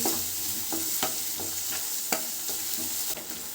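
Onions frying in a pan for egg curry: a continuous close sizzle broken by regular scraping stirs of the spatula, with no voices.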